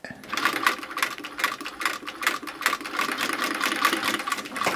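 A shoemaker's sewing machine of a design unchanged for about a century stitches at close range, a fast, regular mechanical clatter of needle strokes running continuously throughout.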